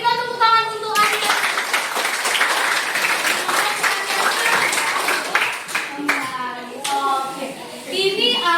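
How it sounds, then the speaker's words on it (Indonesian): Classroom audience clapping at a school positive-culture session, a dense burst of applause sustained for several seconds, with children's voices and brief tonal speech sounds breaking in at the start and near the end. "berikan tepuk tangan untuk Anda"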